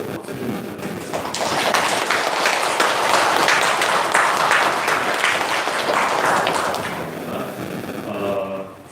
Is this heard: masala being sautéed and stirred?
no